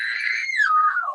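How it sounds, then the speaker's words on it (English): An 11-year-old girl screams during an arrest, a single shrill wailing cry that starts high, wavers, then slides downward and tapers off, close and loud. "you can stop with all that screaming and hollering"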